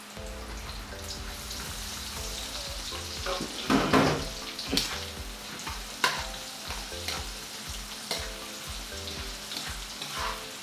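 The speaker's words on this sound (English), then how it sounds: "So to our achete pork fat, we'll add our onions first." Chopped onions sizzle in rendered pork fat, giving a steady close frying hiss broken by spoon stirring and scraping against the pan, with no talking.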